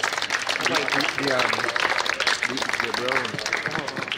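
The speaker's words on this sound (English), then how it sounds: "Let's give them a round of applause" Applause at a school awards event at Naparima College, San Fernando, a crowd clapping steadily through the clip while voices talk over it.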